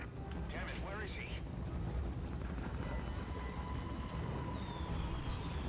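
A helicopter flies in the video game Metal Gear Solid V: Ground Zeroes. Its rotor makes a steady, muffled drone under other game sounds, and voices speak briefly over it.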